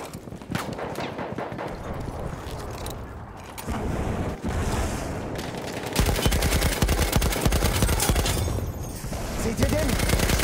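MG 08/18 machine gun firing in a World War I shooter game on the Praise de Tahure map, a dense rapid stream of loud shots mixed with distant battle noise and game voices.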